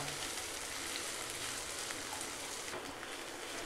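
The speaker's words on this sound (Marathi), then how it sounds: "आता आपण हे छान परतून घेऊया. कांदा मऊ होईपर्यंत आपल्याला परतायचं आहे." Onion sautés in a pan for upma, giving a soft, even sizzle that holds steady at low level throughout, with no talk.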